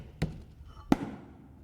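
At a physics demo show, liquid nitrogen boils in a corked container until the pressure fires the cork out like a cannon. Two sharp, close pops sound about 0.7 seconds apart, each dying away fast against a quiet room.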